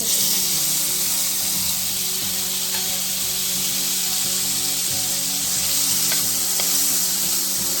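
Tomatoes sizzle in a hot pan with onion, garlic and ginger, a loud steady frying hiss throughout with faint stirring scrapes and no talking.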